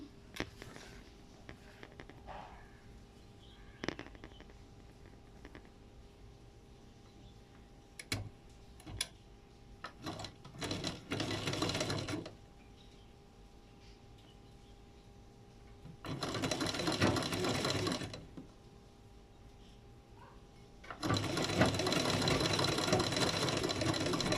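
A sewing machine stitches along folded fabric in three loud runs, each a few seconds long, separated by quieter stretches of clicks and handling noises.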